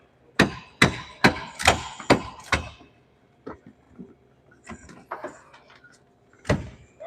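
A door is forced open during a firefighter training course, heard as a run of about six loud, close, heavy impacts in quick rhythm, followed by quieter metallic clatter and one final strike.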